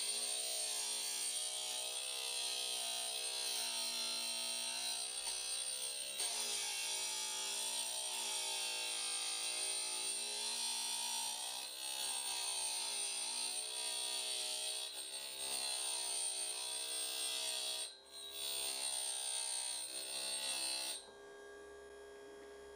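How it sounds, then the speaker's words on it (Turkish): An Opti Grind GQ-D13 drill bit sharpening machine runs continuously, giving a steady high-pitched grinding whine with slight wavering and a brief dip near the end before it cuts off. "makineye takı yerleştiriyorum ve makineyi çalıştırıyorum"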